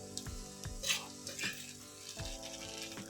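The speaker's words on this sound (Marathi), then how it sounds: "व्यवस्थित आपण हलवून घेऊया, म्हणजे मसाला सगळा मिक्स होईल त्यात।" Masala Maggi noodles sizzle softly in a pan as they are stirred, with a few quiet scraping strokes over a faint frying hiss.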